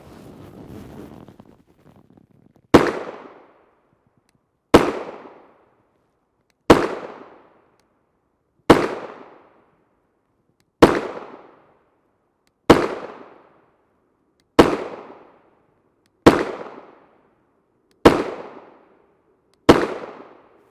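A SAR USA 9mm pistol, a Gen 3 Glock 19 clone with a threaded barrel, fires 124gr FMJ rounds outdoors in ten loud, sharp shots at a steady pace about two seconds apart, each with a short ringing decay.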